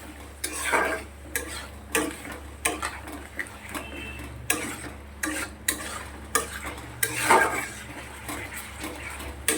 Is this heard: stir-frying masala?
yes